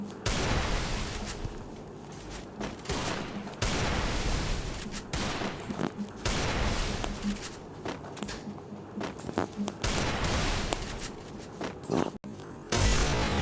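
Gunfire in the mobile video game Free Fire: dense, continuous bursts of game shots and in-game effects, loud and close, filling the clip with brief gaps, with no talk over it.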